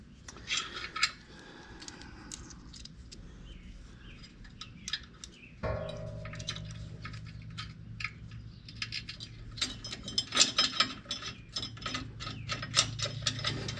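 Ratchet wrench turning a nut during a Lifestyle Offroad winch bumper install, quick repeated clicking bursts with metallic ticks and clanks, a sharp tool clatter midway, then faster ratcheting near the end.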